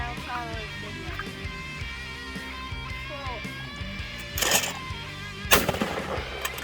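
A Mossberg model 185 20 gauge bolt action shotgun fires two sharp, loud blasts a second apart, with mechanical clicks and people talking around them.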